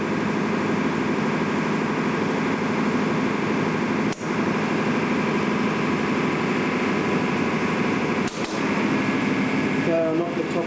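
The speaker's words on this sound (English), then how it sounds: "I'll put A engine on, get her started." Lighthouse standby engine (A engine) starting and running in the service room of Hanois Lighthouse, Channel Islands: a steady, loud mechanical drone with broad hum and a couple of brief knocks, continuous throughout.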